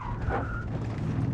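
Tires of a BMW E39 540i squeal briefly as the car skids through a turn, over a low engine rumble.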